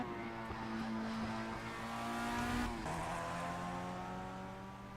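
A Formula 1 car engine in the Project CARS racing game on Xbox One holds a steady high whine across the whole stretch. It stays loud and continuous, with a brief pitch shift and gear change near the middle.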